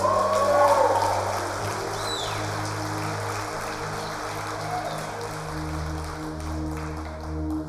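Church congregation applauding at a worship service, a steady wash of clapping held at an even level throughout, with sustained keyboard or organ tones underneath.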